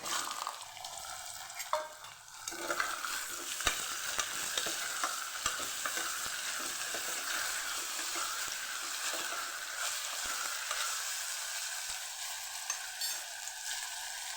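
Cluster beans fry in hot oil with garlic cloves and asafoetida, a steady, close sizzle running throughout with frequent stirring scrapes and clicks of a utensil, no voices over it.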